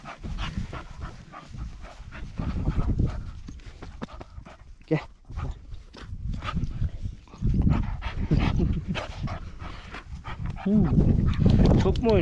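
Male herding dogs from a flock pant and move about at a high mountain campsite around 2650 metres near Karagöl in the Bolkar range, close and continuous, with people talking over them throughout.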